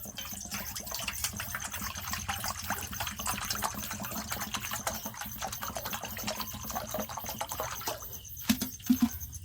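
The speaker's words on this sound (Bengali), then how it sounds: "এবার আমি একটা গামলার মধ্যে জল দেব।" Water running steadily into a basin while making puffed-rice chops, a continuous splashing pour lasting several seconds, then a couple of short knocks near the end.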